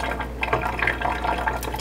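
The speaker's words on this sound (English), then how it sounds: "I'm going to pour the can into a strainer." Canned beans are poured into a kitchen strainer, giving a short, wet, sloshing splatter of liquid and beans that lasts about two seconds, close up and with no talking.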